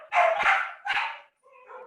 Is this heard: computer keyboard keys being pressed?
no